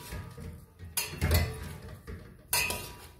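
Green salad being tossed and mixed in a bowl, with bursts of rustling and clinking of a utensil against the dish, close and moderately loud.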